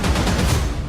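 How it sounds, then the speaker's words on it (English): A dense burst of rapid gunfire rattles continuously for about a second, loud and booming with no gaps between shots. "Were those gunshots?"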